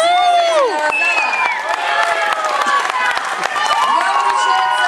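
Audience applause at an award ceremony in a concert hall, a loud steady wash of clapping with cheers mixed in. Music plays underneath, with sliding melodic tones throughout.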